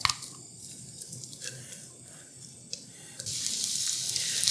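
Onions sizzle in hot oil in a Visions glass pan, a soft steady frying hiss that swells louder and brighter near the end, with faint clinks early on.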